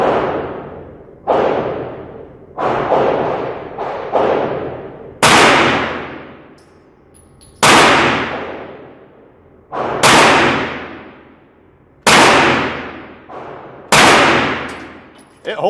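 About ten loud gunshots from a Smith & Wesson FPC carbine at a shooting range, fired at irregular intervals of one to two seconds; each crack rings out with a long reverberant tail, and no one speaks.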